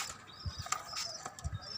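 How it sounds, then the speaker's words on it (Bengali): Pigeons on a rooftop garden, a few quick soft wing flaps and faint low coos heard close but quiet, with brief light clicks in between. "এদিকে হচ্ছে আমার কবুতর"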